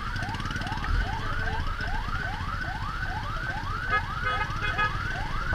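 An ambulance siren wails in a rapid, repeating rising whoop over a steady rumble of traffic, stuck in heavy rain-flooded traffic on Quezon Avenue.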